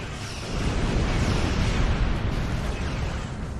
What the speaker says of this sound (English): Now torpedoes full spread.